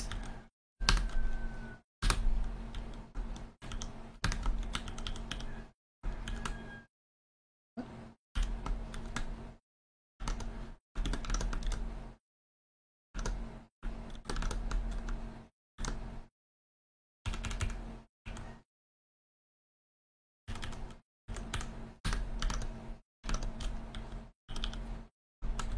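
Fast typing on a computer keyboard while coding, with dense bursts of clicky keystrokes separated by brief silent pauses, close and fairly loud.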